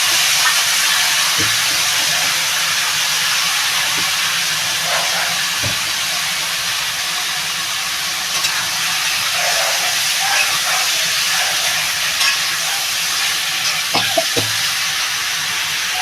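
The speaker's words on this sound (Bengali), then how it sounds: "আমি এই কলাগুলো আলু আর কলা ভেজে দেবো" Potato and banana pieces fry in a pan with a loud, dense, steady hiss of hot oil and a few soft knocks of stirring, close up for the whole stretch, with no voices.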